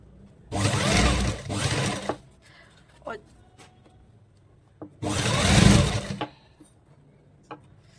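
A sewing machine stitches a plazo pant in two bursts of close, whirring mechanical running, with quiet handling clicks and taps in the gaps between them.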